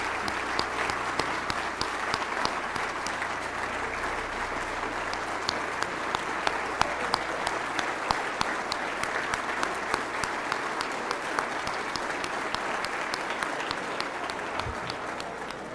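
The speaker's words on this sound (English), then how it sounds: "Let's offer a round of applause for our 2004 National Distinguished Principals." A banquet audience applauds the 2004 National Distinguished Principals at an award ceremony in Washington DC, a steady, even wash of many hands clapping that is sustained and somewhat distant for about sixteen seconds.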